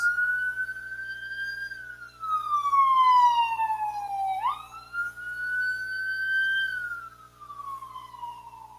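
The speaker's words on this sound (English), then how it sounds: "Sorry about that siren, guys." A wailing emergency siren in Hawaii sweeps up and down in long slow cycles, loud and clear, with no talking over it.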